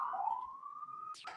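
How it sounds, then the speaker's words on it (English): A police siren wails outside with a single long, faint, steady rising tone, heard through a quiet room and ending in a short warble. "Oops, sorry, siren."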